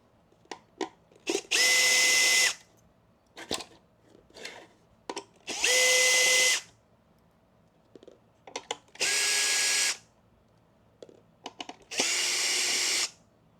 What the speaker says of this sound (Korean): 나사를 하나, 둘, 셋, 네 개를 제거하면요. 이 뒤가 들려요.